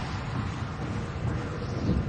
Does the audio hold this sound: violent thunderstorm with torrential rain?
yes